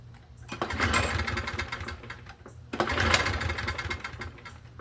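A Toro Recycler lawn mower's engine runs with a rattling clatter, rising in two loud surges about two and a half seconds apart, close to the listener with no talking.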